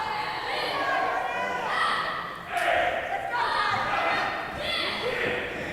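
Wrestling crowd at an event in Palatka chanting a count in unison, loud rhythmic group shouts rising and falling in waves across a large room.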